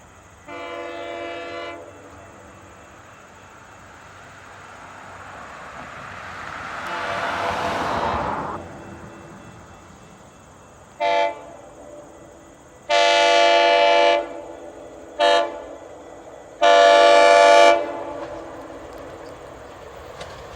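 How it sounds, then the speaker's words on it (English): A GO Transit commuter train with old cab car 256 and vehicle 662 arriving at a station: a long horn blast, then the rushing roar of the passing train, followed by several loud horn blasts, short and long. "we have a GO train coming with 6:62 and the old cab car."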